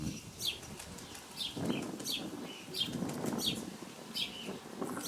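Pigeons flap their wings in irregular fluttering bursts, with faint chirps and coos among them in the background.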